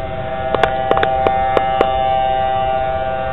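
The Thunderbolt 1000T civil defense siren on Delhi Middle School wails steadily for a thunderstorm warning, heard from a distance, while several sharp clicks or taps sound close by early on and then stop.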